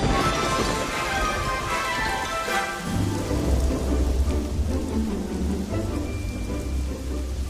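Steady heavy rain pours down with a deep roll of thunder building and rumbling through the middle, a cartoon storm at night with no voices over it.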